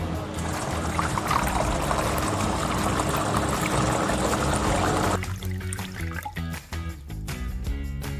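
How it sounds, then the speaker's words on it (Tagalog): Cosmetic alcohol pours steadily into a fabric spray mixture, a loud continuous liquid rush that gives way to clattering, uneven splashing near the end. "Nalagay na natin yung remaining na alcohol."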